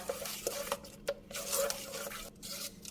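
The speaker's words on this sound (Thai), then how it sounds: "คนให้เข้ากัน" Batter for Thai steamed coconut cake, rested about three hours, being stirred in a bowl: soft, steady scraping and swishing with a few light utensil knocks against the side, close by, no talk.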